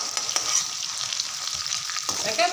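Broiler chicken and pumpkin sizzle in hot oil in a pan, a steady close crackle with occasional scraping as the pieces are stirred.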